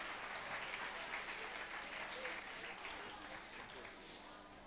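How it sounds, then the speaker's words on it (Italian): Steady crowd applause for a singer at the 43rd Gallo d'oro festival in Gallo di Petriano, dense and sustained throughout, easing slightly toward the end. "ancora un grande applauso"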